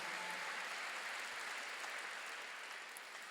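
A church congregation at a Korean sermon breaks into applause, an even wash of many hands clapping that sounds slightly distant and tapers gently near the end, with no speech over it.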